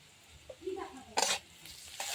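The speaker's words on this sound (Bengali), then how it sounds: "এখন ভালোভাবে হলুদটাকে এর সাথে মিশিয়ে দিতে হবে নেড়ে চেড়ে" Bitter gourd and onion stirred with turmeric in a pan, a few soft scraping stir strokes over a light sizzle, close and fairly quiet, with no talking.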